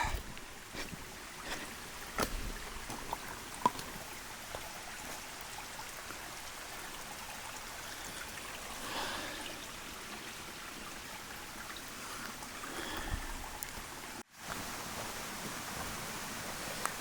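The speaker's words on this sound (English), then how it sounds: "You cross over this creek multiple times as you go through." A creek on the Baskins Creek Falls hiking trail, steady soft rushing of flowing water, faint and continuous with a few light knocks and rustles, a brief dropout near the end.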